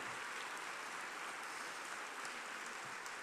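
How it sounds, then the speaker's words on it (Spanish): Audience applause after a New Year's concert by a school symphonic band, a dense even wash of clapping that stays steady and fairly faint throughout. "Un fuerte aplauso también para ellos."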